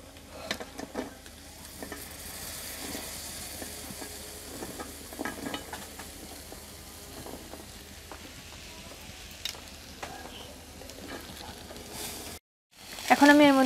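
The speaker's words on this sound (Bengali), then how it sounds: "এখন এর মধ্যে দিয়ে দিচ্ছি কচুরলতি।" Taro stolons (kochur loti) tipped into a hot pan and stirred, a soft sizzle with scattered scraping and clicking of the spatula, fairly quiet, with talking underneath.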